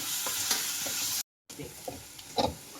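Onions fry with curry leaves and green chillies, a loud close sizzle broken by a short gap, with spoon scrapes and clinks as the pan is stirred; no talking.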